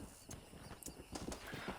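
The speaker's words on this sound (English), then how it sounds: "Let's call a horse here." A horse called in the Red Dead Redemption video game trots closer with a run of quick hollow clip-clop hoofbeats, fairly quiet with a faint snort among them.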